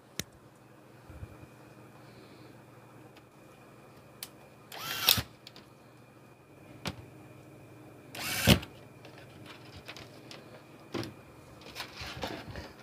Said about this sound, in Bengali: 2টা স্ক্রু মেরে দেব।